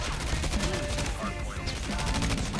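Gunfire from headshot kills in the mobile shooter Call of Duty Mobile, a steady dense stream of game shots and impacts running under continuous background game sound and music.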